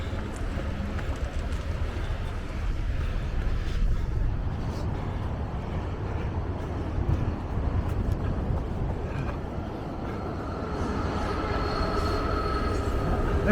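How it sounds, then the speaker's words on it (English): A commuter train on the coastal line at Del Mar Beach rumbles past in the opposite direction with a steady roar and faint wheel squeal, mixed with wind buffeting the microphone. "Here goes the train in the other direction."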